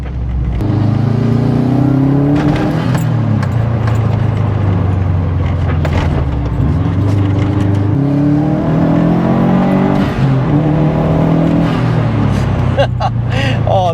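A Subaru Impreza STI Spec C Type RA on the move, its engine droning steadily and loudly with gear-change dips in pitch, under intermittent speech from the driver.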